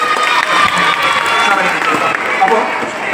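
A crowd of children at a Children's Day magic show claps, cheers and shouts, a loud, dense and steady roar of young voices that continues throughout.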